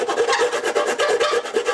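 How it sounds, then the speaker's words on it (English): Metal is worked with a 12-inch flat file in steady back-and-forth strokes, a loud, close, rhythmic rasping with about a dozen quick passes and no talking. "I'm using a 12-inch flat file here"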